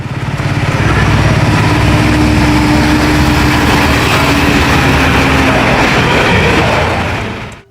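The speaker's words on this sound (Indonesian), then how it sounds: "Wow, ada truk gandeng lagi teman-teman." Trailer truck engine running loud and close, a steady rumbling drone that holds for several seconds before cutting off.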